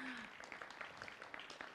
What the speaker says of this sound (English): the applause says it all.